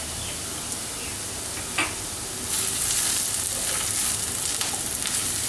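Browned onions fry in a pan with a cinnamon stick and cloves, a dense, close crackling sizzle that swells louder partway through as more sputtering sets in.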